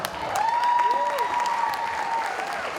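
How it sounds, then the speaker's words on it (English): A school concert audience applauds as a folklórico dance group comes to the stage, steady, fairly loud clapping from many hands, with a high tone and a short pitch sweep heard over it. "please welcome them with a thunderous applause when they make their way up."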